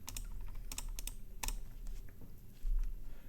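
Fast, irregular typing on a computer keyboard, with crisp key clicks in short bursts and a brief louder cluster of strokes, close up and alone over a low background hum.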